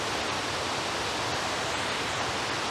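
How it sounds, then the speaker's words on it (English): The main cascades of the Ollerelv waterfall during the spring melt, a steady, dense roar of falling water that stays even and loud throughout, with no voices. "our final waterfall of the day, the Ollerelv main cascades"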